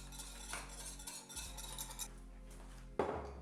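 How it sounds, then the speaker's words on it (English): Wet breakfast ingredients such as almond butter, vanilla and vegan butter or coconut oil are stirred in a pot over medium heat, giving steady scraping and clinking of a utensil against metal, with a louder knock near the end. "Mix and give this about 2 to 3 minutes over medium heat."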